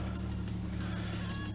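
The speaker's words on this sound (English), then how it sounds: "My neighbor decided to start their vehicle outside" A neighbor's car engine runs steadily outside, a continuous low rumble with a hum that holds at a constant level throughout, close enough to fill the background.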